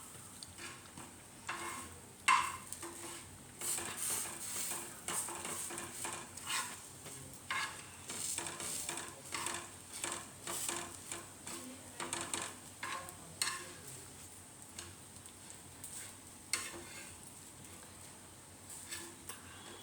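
Eggplant slices stir-fried in a pan make a quiet, intermittent sizzle with frequent light scraping and clinking of a utensil at an irregular rhythm, close by and with no talking.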